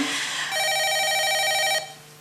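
During a live call-in broadcast, a telephone rings with an incoming call: one steady, bright, electronic ring burst, moderately loud, that stops cleanly after about a second.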